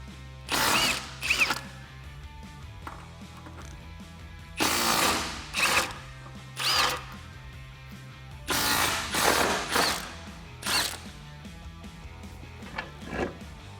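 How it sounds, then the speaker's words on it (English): Ratchet wrench with a 21mm socket loosening the spare tire lug nuts on a Jeep Wrangler JK, with repeated close bursts of rapid metallic clicking, some long and some short, separated by quieter pauses. "Grab your 21mm socket and let's get our lug nuts off."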